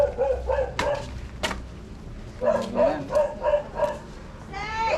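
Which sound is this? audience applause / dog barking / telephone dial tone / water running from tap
dog barking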